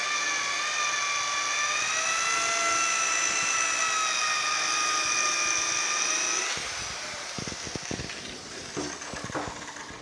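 A polishing machine buffing small parts from a 1950 Chevy truck, a loud steady high-pitched whine that cuts off partway, leaving quieter clattering handling sounds.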